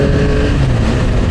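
A motorcycle accelerates along a main road on a ride from Singapore to Desaru, its close, loud engine drone holding steady with a slight rising pitch and constant wind rush.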